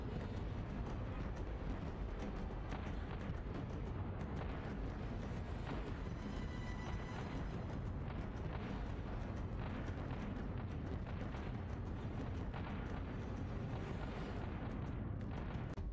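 Explosion of the player blowing up in a video game: a dense, sustained rumble of booming blasts and gunfire-like bursts runs steadily throughout, loud and continuous with no pauses.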